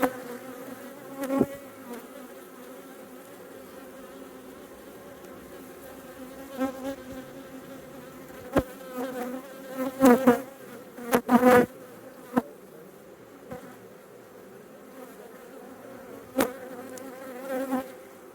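Honeybees buzzing around an open hive during an inspection, a steady layered drone close by with occasional louder passes and sharp knocks of frames or tools, no talking.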